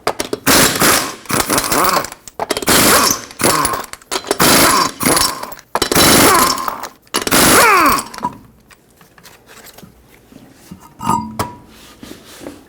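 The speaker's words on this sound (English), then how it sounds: "Use a 21mm socket, remove all 5 lug nuts, and then we can pull the wheel off." Five loud rattling bursts from a power tool driving a 21mm socket as lug nuts come off the front wheel of a 2006-2010 Hyundai Sonata, each burst separated by short pauses, followed by quieter clinks of metal in a garage.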